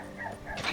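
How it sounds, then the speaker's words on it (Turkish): A dog in the video game The Witcher 3 gives a brief yip and whimpering bark, short and fairly close over a low background hum. "Şu köpek"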